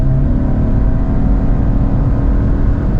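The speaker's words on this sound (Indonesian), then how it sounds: "ketika di kickdown, raungan mesinnya itu berisik banget" Car engine roaring loudly and steadily under kickdown acceleration, a dense continuous drone heard from inside the cabin with no talking.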